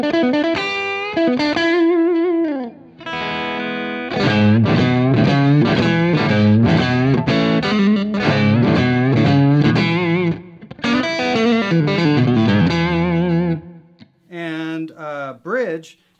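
John McGuire Valley Pro electric guitar with EMG pickups in the middle position, played through heavy distortion: loud, sustained overdriven chords and riffs with chorus-like shimmer, separated by a few short pauses and ending with quicker, broken phrases.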